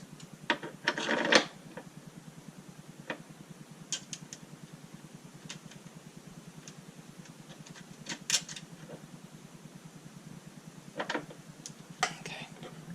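Bolts with lock washers being tightened down on a tailgate table bracket of a Bronco, light metallic clicks and ratcheting taps scattered over a steady low hum, close and fairly quiet, with a short clattering burst near the start.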